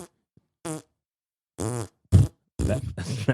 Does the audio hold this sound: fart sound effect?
yes